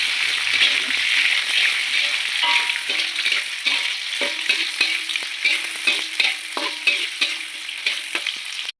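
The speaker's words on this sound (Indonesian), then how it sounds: "Oke, lanjut kita oseng-oseng kembali teman-teman." Chicken liver stir-fried in a pan with large red chilies and tomato hisses steadily and loudly, with a spatula scraping and clicking in a quickening, irregular rhythm throughout.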